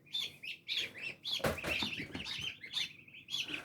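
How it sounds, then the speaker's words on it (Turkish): Shrill high-pitched peeping from several newly hatched goslings, continuous and overlapping in quick repeated bursts, close by with faint background noise. "Bunlar da yeni çıkmış kaz yavrularım."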